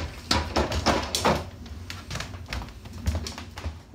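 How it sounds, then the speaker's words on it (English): Sharp wooden clicks, knocks and rattles come in irregular bursts as a drawer is unlocked and pulled out of a pool table, close and fairly loud. "First thing to do is remove the drawer, which I will do now."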